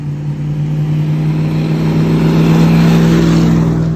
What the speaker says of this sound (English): a lot of noisy trucks